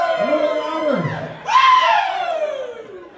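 An outdoor picnic-ground concert crowd screams and cheers in two swelling waves, loud and close, with whoops rising over the noise of the audience.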